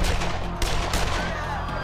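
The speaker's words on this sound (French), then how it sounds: "lorsque de terribles coups de feu retentissent" A burst of gunfire rattles amid a noisy, crowded scene of worshippers in the Vatican, several quick shots overlapping in a loud, chaotic stretch.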